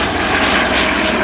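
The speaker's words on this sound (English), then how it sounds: "Today, 15-year-old Alfie and his father are off for a ride in the family helicopter" Steady, loud engine and rotor roar of a family helicopter in flight, a continuous broadband drone filling the whole moment with no voices.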